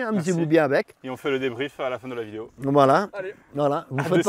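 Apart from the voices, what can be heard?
No everyday noises stand out.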